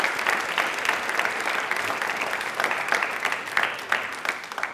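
Loud, steady applause from a studio audience on a televised quiz show, many hands clapping together with a few sharper claps standing out across the clip.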